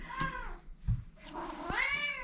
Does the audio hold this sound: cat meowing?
yes